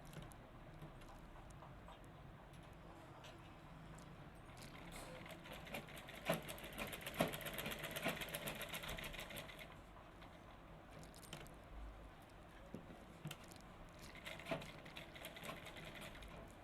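A sewing machine runs steadily while stitching the shoulder seam of a lined blouse, with a louder, denser stretch of whirring in the middle and quieter motor hum before and after. No talking.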